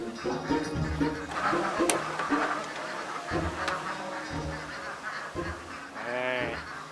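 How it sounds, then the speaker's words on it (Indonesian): Ducks in a duck pen honking and quacking noisily in a loud, continuous, overlapping clamor of many birds, close by, with no talk. "Tumben itu bebek jam segini berisik."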